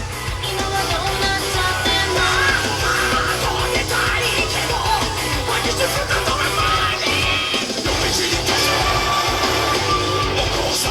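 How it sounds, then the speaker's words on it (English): A woman screams and yells in a Japanese music track, her loud, sustained voice riding over dense, driving music that fills the whole clip without a break. "So she's gonna scream now, is she?"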